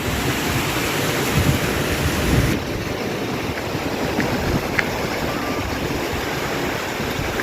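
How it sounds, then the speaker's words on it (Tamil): Strong wind roars steadily outdoors in a Jaffna village, a loud continuous rush mixed with a water-like wash. It eases slightly after a few seconds but never stops. "கடும் காத்தா இருக்கா?"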